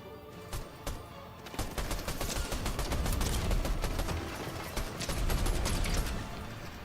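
Rapid machine gun bursts from a War Machine-style arsenal in a video game rattle steadily for several seconds. The dense, continuous crackle stays loud and close with no pauses.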